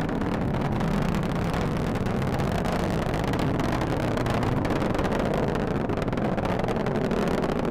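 Rocket engines of the MUOS II launch vehicle roar steadily during ascent past Mach 1 and max dynamic pressure, a dense, loud, unbroken rumble with wind buffeting throughout.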